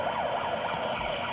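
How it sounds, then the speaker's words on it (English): An emergency siren played over a CB radio transmission on a Stryker SR-955 HPC+ comes through as a steady wavering wail, compressed and filtered by the radio, with no speech over it. "Somebody's playing a siren or something over the air"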